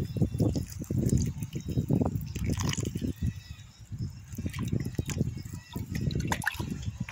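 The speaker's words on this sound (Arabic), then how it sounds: "ونبدأ نديله المية بتاعته اهو. نسقيه كده." Water poured from a container onto freshly planted basil seeds in a pot, a close, gurgling trickle with uneven splashes running throughout.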